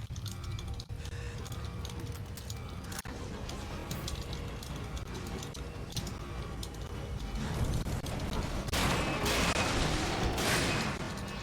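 Repeated gunfire from Resident Evil 2 Remake, a dense run of sharp shots over a busy game soundscape, with a louder burst toward the end.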